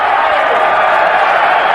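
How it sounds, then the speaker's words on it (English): A large arena crowd at a boxing match in South Padre Island, Texas, applauding two fighters, a steady dense wash of clapping and cheering that holds at an even, loud level throughout. "a very appreciative crowd here in South Padre Island, Texas, applauds these two fighters"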